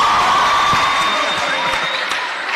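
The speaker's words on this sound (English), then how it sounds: "can you clap for Jay?" Loud, close applause from a crowd at an in-conversation event with Jay Park, dense clapping with some cheering mixed in, tapering slightly toward the end.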